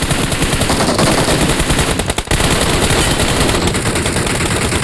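Automatic gunfire in PUBG Mobile, loud and continuous rapid bursts of machine-gun fire filling the whole stretch, with only a brief dip midway.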